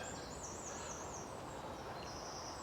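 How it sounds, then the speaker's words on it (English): Faint birdsong drifts over a steady outdoor hiss in countryside near Pyle, Wales, with thin whistled phrases coming and going in the distance. "Listen to the birds."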